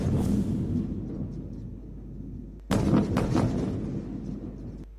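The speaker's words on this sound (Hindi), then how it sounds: "गजा में रात गए और सुबह सवेरे मुतअद्दिद धमाकों की आवाज़ें सुनी गईं" Deep, rumbling blasts from a distance at night in Gaza: a sustained low roar, then a sharp boom just before the midpoint followed by several more heavy thuds.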